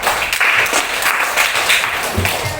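Classroom applause for a student named Andrea, a steady burst of many hands clapping close and loud, continuous and fairly even throughout.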